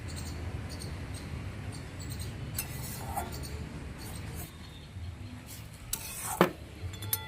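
A spoon stirs basanti pulao with ginger in a pot, soft scraping and clinking at close range with a few sharper knocks of metal against the pot, and no talk.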